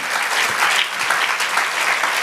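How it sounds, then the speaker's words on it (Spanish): Church congregation applauding during a Bible study service, dense sustained clapping from many hands, loud and even throughout with no voices over it. "Dale un aplauso al Señor."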